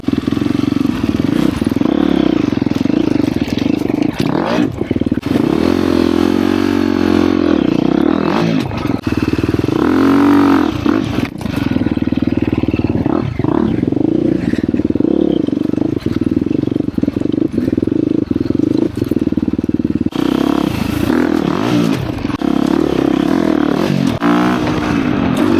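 KTM 350 XCF Factory Edition four-stroke dirt bike ridden on singletrack, its engine loud and close, revving and rising and falling continuously with rattles and clatter from the trail underneath.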